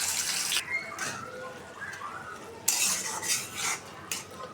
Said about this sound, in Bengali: মশলাটা কষা নিতেছি